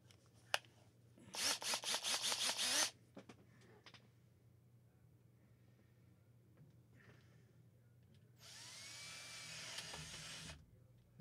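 A power drill bores through plastic and then wood, giving two loud bursts of grinding whir. The first lasts about a second and a half and the second about two seconds, with quiet pauses and faint handling noises between them.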